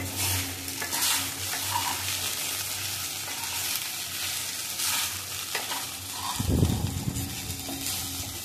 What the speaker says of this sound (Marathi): लाल मिरची, थोडासा तिखट मसाला, चांगलं मिक्स करूया.